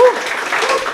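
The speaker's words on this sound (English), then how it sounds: "A round of applause." Brief burst of clapping from a small audience, with a voice speaking briefly over it.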